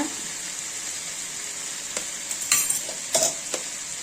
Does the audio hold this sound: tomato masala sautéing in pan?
yes